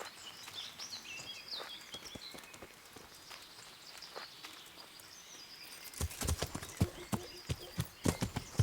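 Horse hooves clip-clopping in Kingdom Come: Deliverance, a quiet outdoor bed with birdsong, then from midway a close, loud run of irregular hoof strikes.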